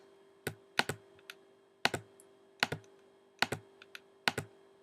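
Sharp mouse clicks in music production software while editing a MIDI clip, landing in quick pairs like double-clicks with a few single taps between, close and clear over a faint steady hum.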